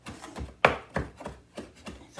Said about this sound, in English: chopping up the parsley.